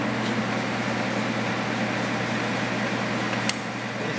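A Sheldon R-15 metal lathe, a 15 by 40 inch machine, runs in low gear at about 120 RPM. It gives a steady, even mechanical hum with a faint tonal whine, close by and alone, with one brief click near the end.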